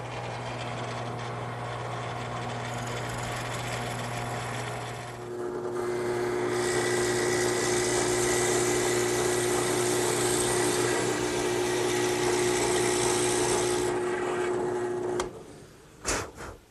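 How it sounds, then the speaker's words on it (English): A 5-in-1 tool bores a hole about six inches deep into wood for a garden swing. A steady mechanical whir runs continuously, rising and thickening midway as the bit cuts. It winds down with a few closing knocks. "Now I'll just bore a hole about 6 inches deep."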